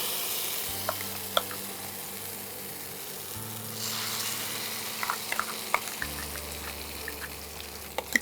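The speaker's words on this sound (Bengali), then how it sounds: "রসুনগুলো হালকা একটা গোল্ডেন কালার আসবে যখন, তখন আমরা পেস্টটা দিয়ে দেব" Soft continuous sizzle of a vegetable peel paste frying with garlic in a pan for a Bengali dish, with scattered scraping taps of a spatula stirring and a low background hum.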